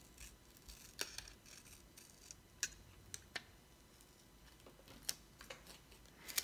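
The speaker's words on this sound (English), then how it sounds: "And I'm going to cut it up here." Scissors cutting paper for a photo collage, a series of quiet, crisp snips at irregular intervals close by.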